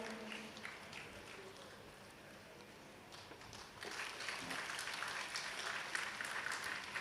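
An audience at a Bhagavata Saptaha closing ceremony in Palakkad breaks into applause for the inaugural speaker, faint at first then swelling into a dense, steady clatter of many hands from about the midpoint, heard from some distance.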